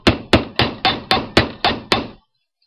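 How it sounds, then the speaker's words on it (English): Eight evenly spaced hammer strikes on metal jewelry wire, hardening it, ring out close and loud, each a sharp metallic-wooden whack with a short decay, then silence. "one of the ways to harden it is to hammer it"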